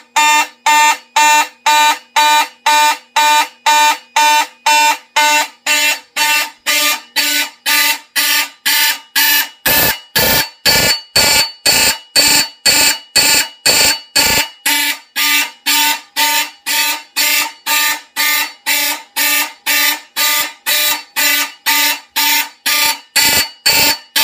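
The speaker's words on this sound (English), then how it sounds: "there are some other alarms, which you are going to hear in a moment" A fire alarm system under test sounds a loud, steady series of rapid repeating tonal pulses for about 24 seconds, with a brief stretch of harsher broadband bursts partway through and no talking.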